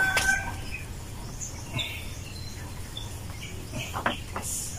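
Chickens cluck and call intermittently at a moderate distance, with other birds chirping over a steady outdoor background.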